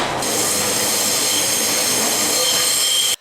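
A train rumbles along the rails in the UK near Cardiff with a steady, loud roar and a high metallic squeal, continuous throughout, no voices.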